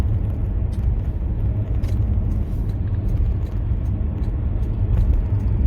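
Steady, loud low rumble of road and engine noise inside a 20-year-old Jaguar XJ8 X350 V8 luxury saloon cruising at motorway speed, continuous and even throughout with no talking.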